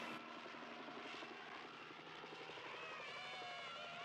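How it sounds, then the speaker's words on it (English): A circling helicopter's engine drones steadily overhead, a continuous throbbing rumble with a whining tone, holding an even loudness throughout. "the second helicopter circles back to the woman on the roof"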